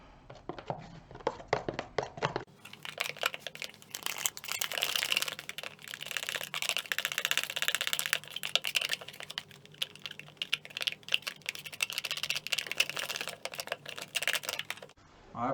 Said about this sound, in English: I'm using this bit of old bandsaw blade to stir it